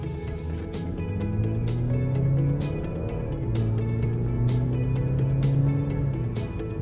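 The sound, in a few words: 2020 BMW 330i xDrive 2.0T engine while driving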